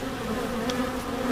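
Honeybees in an open hive box give off a steady, dense drone with a low, constant hum and no speech, close and continuous throughout.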